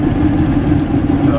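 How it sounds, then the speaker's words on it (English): A turbocharged 5.2 engine at wide open throttle on a street tune, making about 4 psi of boost, roars loudly and steadily from close range across the whole short stretch, with no break in the sound. "That was wide open throttle"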